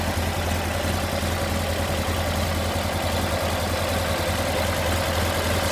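A steady, loud 1964 Porsche 356 SC engine idling with an even low rumble and constant vibration, nothing else heard.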